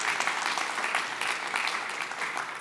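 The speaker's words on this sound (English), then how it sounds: "I think applause are due now" Audience applause filling a conference hall, a steady wash of many hands clapping throughout, moderately loud with no talk.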